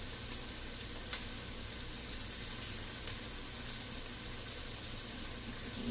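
Seasonings toasting in a pan for vegan collard greens give a steady soft sizzle with faint crackles, close and fairly quiet, with no talking.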